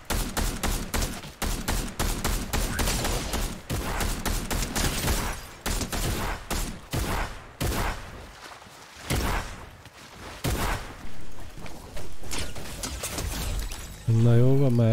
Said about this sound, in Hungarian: Na jó van, már elég legyen már lövöldözésből